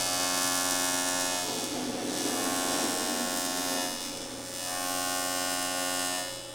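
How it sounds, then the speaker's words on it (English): Welding a bottom piece onto an AWD four-rotor RX-7 gives a steady, close electric buzz with crackle that runs almost the whole time and dips briefly near the middle, with no talking. "And now I'm going to weld this bottom piece."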